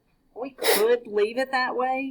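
A person sneezes once during a math homework lesson, a sharp burst that breaks into ongoing talk, with speech continuing right after.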